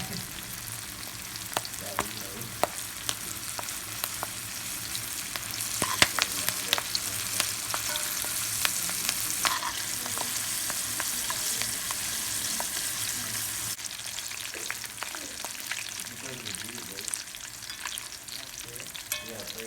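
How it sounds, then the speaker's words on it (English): Steady sizzling and crackling of garlic scapes frying in hot oil in a frying pan, with occasional pops and light stirring clinks throughout. "We're going to fry these until they turn a golden brown."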